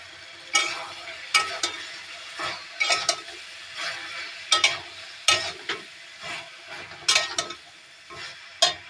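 Eggplant and mixed vegetables fry in a pan, with repeated bursts of spatula stirring and scraping over a low sizzle, close by and with no voices.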